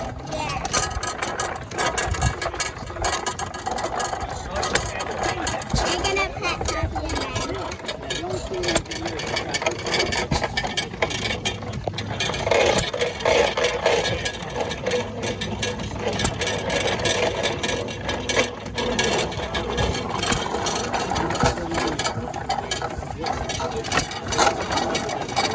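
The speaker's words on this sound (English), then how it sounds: "Grinding corn." A motorized mill grinds corn with a steady, rattling mechanical drone that holds an even level throughout, close by, with voices of people in the community mixing in under the machine noise.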